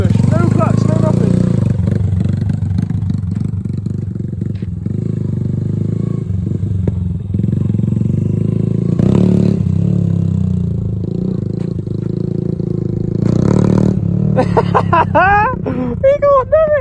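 A Yamaha YBR125 motorcycle revving hard during wheelie attempts, a continuous loud buzzing engine note rising and falling with throttle, close by, with people talking and shouting over it.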